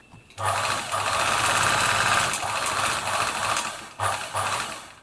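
A Singer 760 sewing machine runs after oiling, still slightly rattly: a close mechanical whirr with a buzzing hum that starts abruptly, runs for a few seconds, stops briefly, then starts again.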